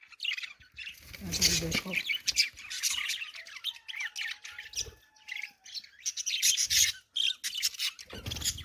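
Several pet lovebirds, parrot pairs kept in a village home, squawk and chirp in sharp bursts under a voice, calling close by and mostly in the later part.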